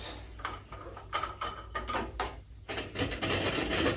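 A wrench turns the carbon pre-filter housing on a Rival cart, making a close series of scraping, ratcheting rubs in short bursts, followed by a rougher grinding scrape near the end.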